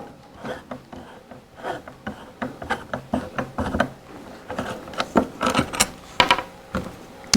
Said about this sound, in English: next we're removing the 2 screws retaining the trigger guard with the 3/16 hex wrench